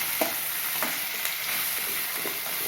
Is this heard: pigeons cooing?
no